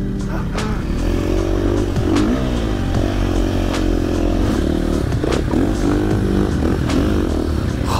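Motocross dirt bike ridden through desert dunes near Dubai, its engine loud and close, revving up and down continuously through gear changes, with clattering bursts and wind rush.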